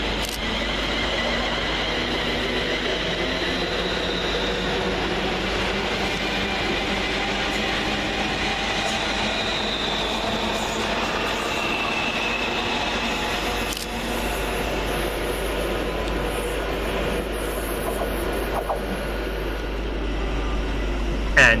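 Pair of coupled Class 350 electric multiple units, 350105 and 350129, pulling out of Watford Junction station on a London Northwestern Railway service, a steady loud rumble and hum of traction motors with a low drone throughout, heard from the platform.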